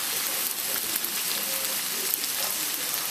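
Marinated pork frying in a little canola oil in a pan over medium-high heat, a steady close sizzle and crackle with no talk.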